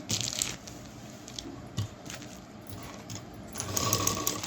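A sewing machine stitches a shopping bag made from an old gown in short, quiet runs close by, with soft fabric rustling and a slightly longer burst near the end.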